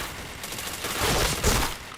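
Rapid gunfire in a video game forms a dense, continuous rattle of shots that swells louder midway and stays close and prominent, with no talk over it.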